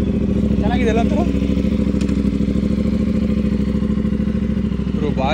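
An Aprilia RS 457 fitted with an aftermarket exhaust and BMC air filter idles with a loud, bass-heavy, steady rumble close by, with brief voices talking over it.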